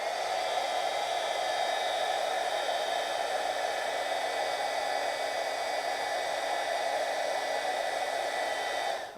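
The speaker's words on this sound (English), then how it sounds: "so I'm going to use my heat gun" Heat gun blowing on wet paint on a DIY bracelet, a loud continuous close whooshing roar holding steady the whole time before cutting off at the very end.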